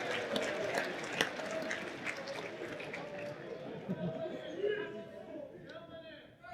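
A convention panel crowd at New York Comic Con cheering and applauding, a steady wash of clapping and whoops that holds throughout and eases near the end as a voice begins over it.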